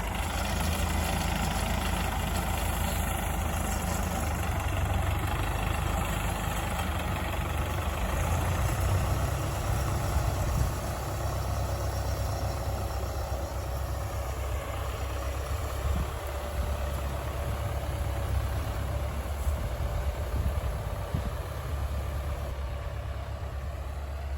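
A heavy diesel tractor engine idles steadily nearby on a farm field, a constant low rumble with a faint whine above it, no voices.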